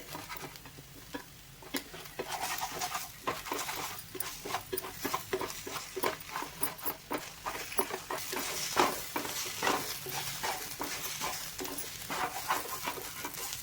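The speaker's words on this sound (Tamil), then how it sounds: "ஸோ நல்லா கலந்து விட்டுக்கோங்க அப்போ தான் அடி குடிக்காது" Food is stirred steadily in a pan on the stove so it won't stick, making rapid, rhythmic scraping and patting sounds over a low sizzle that run continuously at close range, with no talking.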